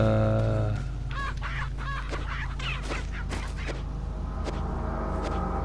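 Chickens cluck in Resident Evil 4, a few short fowl calls scattered through a steady game soundtrack at moderate level, no talking.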